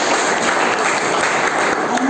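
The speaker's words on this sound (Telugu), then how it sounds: "అన్నగారిని ఒకసారి చప్పట్లతో అభినందించారు." Audience at a 2021 Coastal Andhra atheist convention applauding to welcome a new office bearer, a dense, steady burst of clapping from a crowd that carries through the whole moment.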